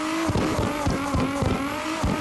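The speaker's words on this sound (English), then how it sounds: "I'm just gonna carry on drifting over here a little bit more." A tuned R32 in CarX Drift Racing holds a drift, engine droning at a steady pitch with rhythmic pulsing bursts and faint tire hiss, close and sustained without speech.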